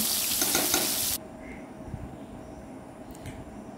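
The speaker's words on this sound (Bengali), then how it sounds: "কই মাছগুলো এক এক করে হালকা ভেজে নেব" Koi fish fry lightly in hot oil, giving a steady loud sizzle that cuts off abruptly after about a second, leaving faint kitchen noise and soft stirring.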